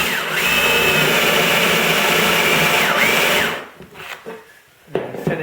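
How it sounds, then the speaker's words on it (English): A power drill with a spade bit bores most of the way through a piece of wood, a loud, steady whine for several seconds that stops abruptly and gives way to quieter clicks and handling sounds. "I'm going to drill most of the way through with this spade bit"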